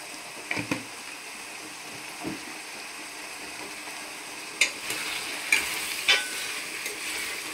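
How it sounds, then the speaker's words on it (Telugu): Cauliflower curry with turmeric cooking in oil, with a soft, steady low sizzle and a few sharp scraping clicks from stirring, moderately close and without talk. "ఈ క్యాలీఫ్లవర్ బాగా నూనెలో మగ్గాలి"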